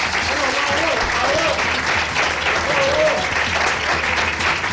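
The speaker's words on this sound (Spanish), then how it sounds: "Fuerte el aplauso para José Ramón Marcuello." Sustained applause from a radio studio audience, steady and fairly loud throughout, with a voice faintly audible under the clapping.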